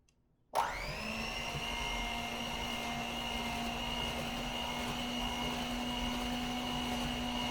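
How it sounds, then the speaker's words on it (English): A stand mixer with a whisk attachment switches on and whips cream cheese frosting made with agave and vanilla, giving a sudden start and then a steady, loud motor whir throughout. "we're going to blend our frosting with our whisk attachment until it's light and fluffy"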